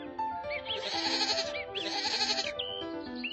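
Goats bleat twice in long, quavering calls close by, with a soft tonal background underneath.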